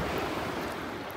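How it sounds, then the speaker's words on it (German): Calm Caribbean sea at the beach in Tulum, Mexico: a soft, steady wash of gentle surf with light wind, continuous and fairly close, with no voices. "Heute ist das Meer so unglaublich ruhig."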